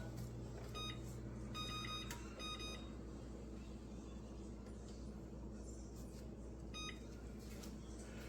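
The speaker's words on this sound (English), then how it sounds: "Set my timer." A kitchen timer beeps in short bursts over a steady oven-like hum, a few quick beep groups near the start and one more later, with no talk.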